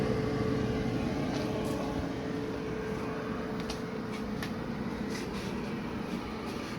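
A Whirlpool, Maytag or Kenmore clothes dryer runs with a steady, dense rumbling whir and faint ticks, a constant close-up drone with no voices.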